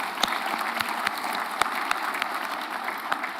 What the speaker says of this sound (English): I think that's worth a round of applause for all employers.